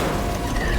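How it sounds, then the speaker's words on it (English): Weapon reload in the Helldivers 2 combat game: a brief, loud mechanical clack of the magazine and action, dense and close under battle noise. "Last reload!"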